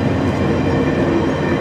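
VIA Rail passenger train no. 84, a short three-car consist, rolls past close by with a steady, loud rumble of wheels on rail and no talk.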